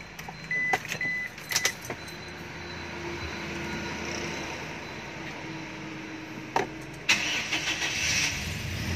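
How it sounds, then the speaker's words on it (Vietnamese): A 2011 Toyota Innova starts up: a few clicks and a brief crank, then the engine catches and idles quietly and steadily, with more sharp clicks near the end. "Đề nhẹ phát nổ máy rồi nè."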